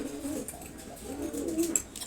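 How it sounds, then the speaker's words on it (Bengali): Soft, low cooing from a resting pair of Silver Gola pigeons, male and female, heard close but faint in repeated gentle murmurs with no talking. "সিলভার গোরা কবুতর, এটা নর আর হচ্ছে মাদি, দুইজনেই রেস্ট নিচ্ছে এখন"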